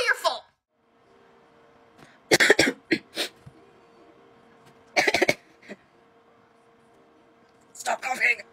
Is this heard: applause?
no